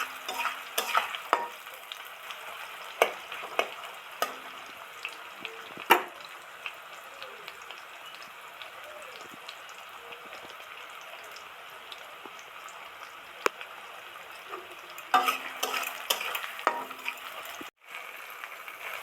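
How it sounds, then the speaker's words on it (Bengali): Chopped onions frying in a pan, a soft continuous sizzle broken by repeated scraping taps and clinks as they are stirred, close and fairly quiet, with a louder burst of stirring near the end. "এইবার পেঁয়াজ কুচি ছেড়ে দেব।"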